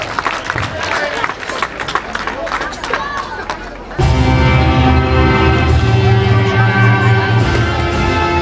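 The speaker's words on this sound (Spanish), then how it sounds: "Fuerte el aplauso para ellos" Loud crowd applause with chatter for performers at an Andalusia Day celebration in La Cañada, a dense run of claps that breaks off abruptly into sustained music.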